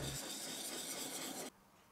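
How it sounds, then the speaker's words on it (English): A hand plane blade being sharpened by hand on a diamond stone and whetstone, giving a close, continuous rasping scrape for about a second and a half before it stops abruptly. "I can then move on up through the grits using my diamond stone and whetstone"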